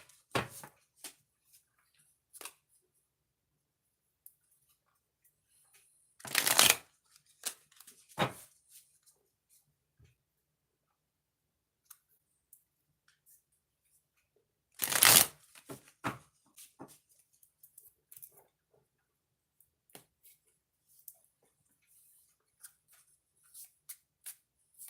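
Tarot cards shuffled in two loud, distinct bursts several seconds apart, each followed by scattered light taps and card handling in an otherwise quiet room.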